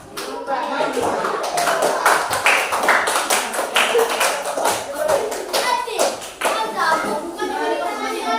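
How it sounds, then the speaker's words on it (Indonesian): Classroom applause for a group of pupils: a quick burst of many small hands clapping nearby, sharp and uneven, with children's chatter and voices running underneath throughout. "Oke, tepuk tangan untuk kelompok."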